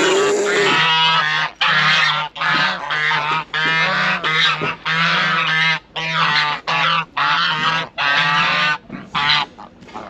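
A flock of geese honks loudly and close by in a Turkish farmyard, with repeated harsh overlapping calls in quick bursts separated by brief pauses throughout.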